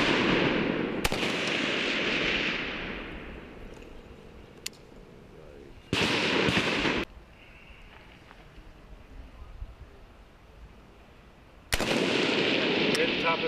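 Sharp, loud rifle shots fired at targets on a U.S. Marine urban sniper course, three isolated cracks spaced several seconds apart with a ringing tail, someone talking in between.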